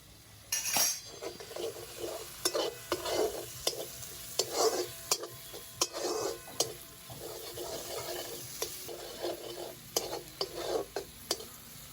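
Minced mutton is stirred and sautéed in a pan, with a soft sizzle under repeated scraping and clinking strokes of a spatula against the metal, arriving in uneven bursts.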